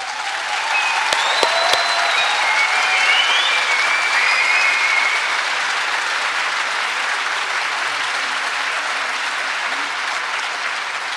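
At a round-table discussion, an audience breaks into steady, even applause that stays full and continuous for many seconds, with faint voices and a few whistles early on.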